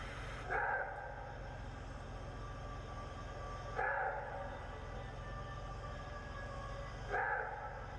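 A maned wolf gives three short, harsh barking calls, evenly spaced about three seconds apart, over a steady low background hum.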